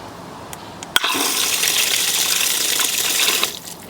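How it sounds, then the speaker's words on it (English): Water gushes steadily from the outlet of a Lumary smart water timer after it is switched on, a loud, continuous hiss that begins with a sharp click and runs for about two and a half seconds before cutting off. "let's turn it on. Let's see if any water comes out of here"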